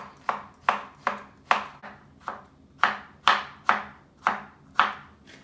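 A knife cuts zucchini into small pieces with about a dozen crisp, evenly spaced chops on a board, each a sharp close knock with a short tail, alone with no talk.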